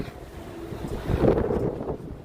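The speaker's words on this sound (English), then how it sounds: "It's windy." Gusty wind buffets the microphone on a cold winter night in downtown Toronto, rumbling low and swelling louder midway before easing off, with no voices.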